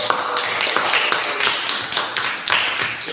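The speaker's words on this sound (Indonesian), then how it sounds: "Kita beri aplaus untuk kelompok 3." Applause from students in a classroom for a group after its presentation, a steady run of quick overlapping hand claps sustained at even loudness for a few seconds.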